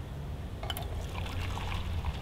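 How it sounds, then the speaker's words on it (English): French-press coffee pours gently into a cup, a soft trickling splash rising after a faint clink, quiet and close. "So that's now ready to pour, and I can pour that very carefully"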